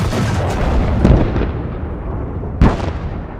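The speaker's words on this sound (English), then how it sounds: "Ukrainian artillery joins the fight once again." Ukrainian artillery fire and explosions on a battlefield: several heavy booms with sharp onsets, two especially loud blasts standing out over a continuous rumbling roar, with no talk.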